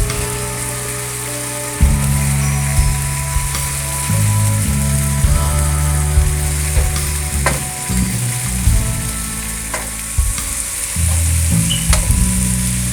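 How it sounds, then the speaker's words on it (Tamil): Ginger garlic paste sizzles loudly in a pan for chicken curry, with a dense, steady frying hiss and repeated scraping and clanking of a spatula stirring, close and alone. "இஞ்சி பூண்டு பேஸ்ட்டு சேர்த்தாச்சு. அந்த வாசம் போகிறது வர வதக்கிக்கோங்க."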